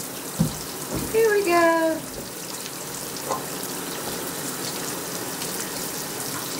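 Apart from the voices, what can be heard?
water poured over a pet monkey during a bath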